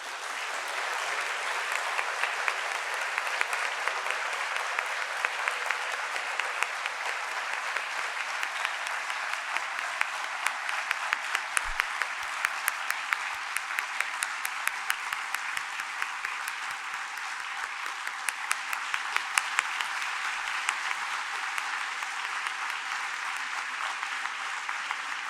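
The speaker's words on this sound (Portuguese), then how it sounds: "eu peço a todos uma grande salva de palmas" A large audience gives long, even applause at a professor's retirement ceremony, the dense clapping holding steady at a similar level for the whole span with no pauses.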